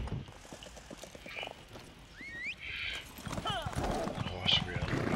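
Horse galloping in the video game Morrowind, a quick run of hoof clip-clops under a whinny, with game ambience and some talk through the short stretch.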